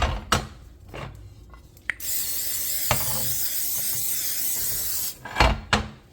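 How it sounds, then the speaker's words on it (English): A steady aerosol hiss of non-stick cooking spray into the bottom of a pan lasting about three seconds, bracketed by a few clunks and taps from handling the can and pan. "spray some non-stick spray in the bottom of my pan"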